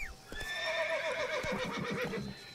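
A horse in the video game The Witcher 3 lets out a long, clear whinny that falls in pitch over about two seconds, close and prominent, with a few soft hoof thuds beneath it and no talk.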